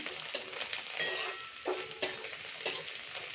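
Chillies and curry leaves fry in a pan for poha, a soft crackling sizzle broken by several sharp clinks and scrapes of a spoon stirring against the metal pan, close and fairly quiet.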